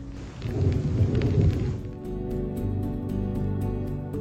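Thunder rumbles deep and heavy over the Alps during a mountain storm, a long rolling growl swelling then easing, with a patter of rain continuing beneath it.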